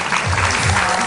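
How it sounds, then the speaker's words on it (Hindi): Studio audience on a morning talk show breaks into dense, loud applause, a short burst of steady clapping filling the whole moment. "बहुत सारी तालियां"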